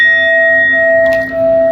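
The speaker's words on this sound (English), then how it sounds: "We're gonna hit this bell." A single bell struck once to cleanse a deck of tarot cards, its steady ringing tone sustaining loud and clear through the clip with no talk over it.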